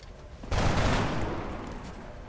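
A gunshot rings out in XCOM: Enemy Within, a loud sudden blast with a burst of rapid fire that rolls into a long fading rumble, with no one talking.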